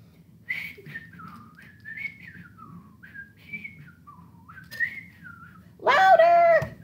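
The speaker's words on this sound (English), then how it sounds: "Did I hear a whistle?" Someone whistles a soft, wandering melody up close, ending in a loud, sharp whistle blast.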